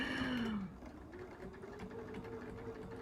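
A sewing machine stitches a quilt in red thread, giving a short, fast whirring burst up close that stops abruptly, leaving quiet room tone.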